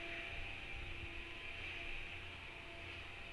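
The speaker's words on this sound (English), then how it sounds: "Oh, she's got the vacuum out." A vacuum cleaner runs in the background of a room, a steady, faint droning whoosh with a constant hum, continuous and unchanging throughout, no voices over it.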